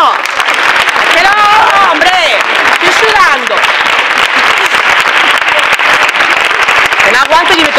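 An audience at a university talk breaks into loud, sustained applause that fills the whole stretch, with excited voices and cheering mixed through the clapping.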